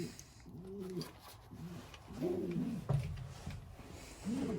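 Racing pigeons coo in soft, repeated rolling calls, several phrases spaced a second or so apart, close and quiet against faint background noise.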